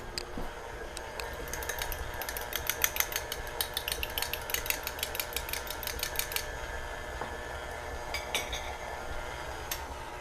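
An egg whisked with a fork in a bowl while cheesecake crumble bars are made: a run of quick, bright rhythmic clinks for several seconds, then a few scattered taps, over a low kitchen hum.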